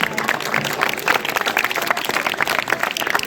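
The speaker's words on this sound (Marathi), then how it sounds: "गोळेगाव सरांसाठी टाळ्या एकदा." An audience claps at a quiz programme held at a National Service Scheme camp, a dense burst of steady applause from many hands throughout.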